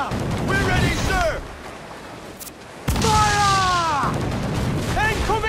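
Ship cannons fire in the Assassin's Creed IV Black Flag video game, one sudden loud broadband boom cutting in midway through a busy sea battle, with shouting voices around it before and after.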